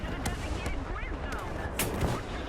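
Artillery shells crash down in War Thunder, booming impacts and sharp cracks over a constant engine rumble, with muffled voice chatter in the background.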